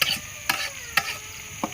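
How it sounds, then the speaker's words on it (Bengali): Cabbage, radish and potato stir-fried with turmeric in oil, a soft sizzle under three or four distinct scraping strokes of a spatula against the pan. "এখন একটু কষে নিতে হবে,"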